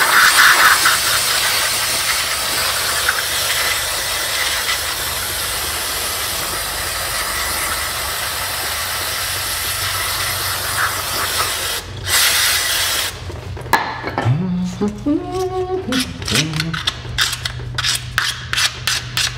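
Brake cleaner sprayed on the disc brake of a 1990 Buick LeSabre, a loud continuous spray hiss lasting about twelve seconds, then short bursts and clicks with a brief rising whine, close up and without talk.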